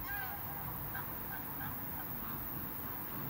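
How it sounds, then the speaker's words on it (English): Several faint honks from a large bird like a goose repeat irregularly over steady outdoor background noise. "It's a big bird, yeah."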